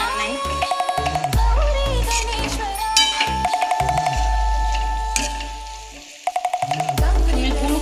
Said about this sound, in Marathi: मंद गॅसवरतीच आपल्याला हे हलवून घ्यायचंय